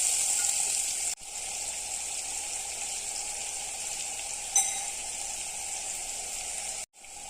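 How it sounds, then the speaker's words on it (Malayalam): Marinated prawns frying in a pan give a steady, close hiss of sizzling oil that holds throughout, broken by two brief gaps and a small pop of louder spatter partway through. "ചെമ്മീൻ ഫ്രൈ ആക്കാൻ വെച്ചിട്ടുണ്ട്"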